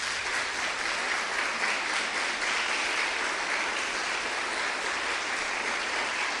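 A church congregation at a Wednesday service claps together in sustained, even applause, a full wash of hands held at steady loudness with no talking over it.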